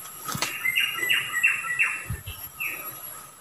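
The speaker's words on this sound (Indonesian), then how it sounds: "Bunyi burung guys." Several birds chirp outdoors on a slippery forest path near a river, with a series of short, clear tweets repeating at an even pace over a steady hum of background ambience.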